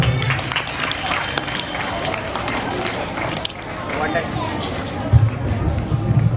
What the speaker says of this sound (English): Let us put our hands together and give the singers a huge round of applause